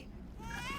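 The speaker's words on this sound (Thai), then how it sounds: "เฮ้ยมีเสียงเด็กร้องด้วย" An infant crying in the survival video game SCUM, a thin wailing cry that rises in pitch toward the end, heard faintly over low background rumble.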